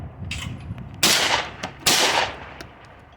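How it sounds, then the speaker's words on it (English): Beretta shotgun firing at clay targets at an outdoor shotgun range, two loud blasts about a second apart with short echoing tails, among fainter distant shots. "Shooting the Beretta shotgun."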